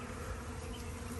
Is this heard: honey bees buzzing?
yes